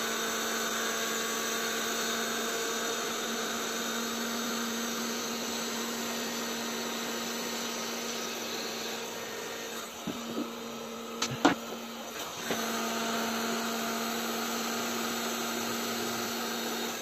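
A plastic welding tool heating plastic materials to repair cracked motorcycle plastics: a steady, loud whirring hiss with a constant tonal hum throughout, broken briefly by a few faint clicks and knocks near the end.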